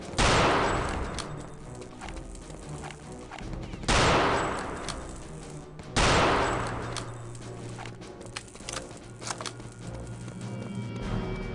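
Gunfire in the video game Return to Castle Wolfenstein: three sharp blasts each open a rattling burst, with scattered smaller shots and clatter between them, loud and close.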